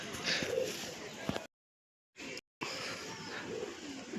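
Long pigeons coo softly nearby among faint chirps and background noise, with two brief gaps of silence.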